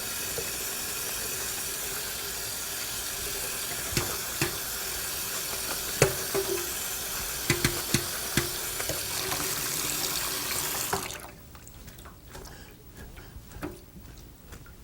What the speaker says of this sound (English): Tip it through a colander. You have to rinse off all the salt